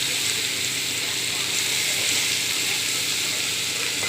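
Chopped ridge gourd cooking in a pan gives a steady, even sizzling hiss that continues unbroken throughout.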